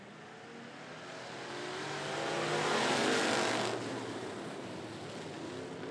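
Street stock race cars at 411 Motor Speedway roar in a steady broadband drone that swells to a peak midway as the pack passes close, then eases back to a sustained engine rumble.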